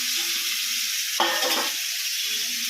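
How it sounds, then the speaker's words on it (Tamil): A pot of fish curry broth bubbles and sizzles steadily, with a brief louder burst of stirring or spattering midway through. "நம்ம குழம்பு கொதிச்சு பிரிங்க மீனை போட்டுடுவோம்."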